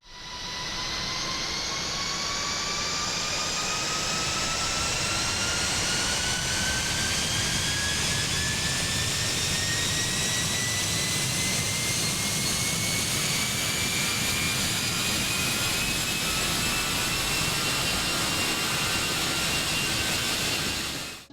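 A steady, loud jet engine roar in Microsoft Flight Simulator with a rising whine that climbs slowly in pitch, continuous and close throughout.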